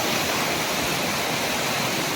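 Natural spring water runs in a steady, broadband rush, continuous and fairly close, with no voices.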